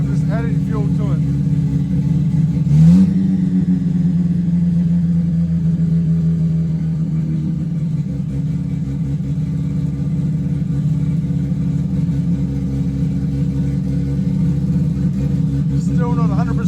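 Bridgeported Mazda RX-8 Renesis rotary with a turbo, idling roughly up close with a brief throttle blip and a rising rev early on, then a loud, uneven lumpy drone settling back down.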